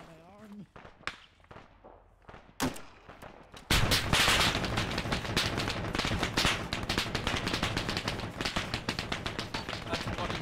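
Machine gun fire in the ARMA 3 military game, a few scattered shots at first, then a loud, relentless stream of rapid automatic bursts close by, with voices talking over it.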